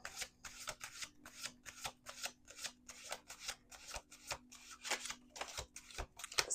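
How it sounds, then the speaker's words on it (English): Tarot cards being shuffled by hand, a steady run of quick riffling bursts with short gaps between them, close and fairly quiet with no voices. "2 more shuffles."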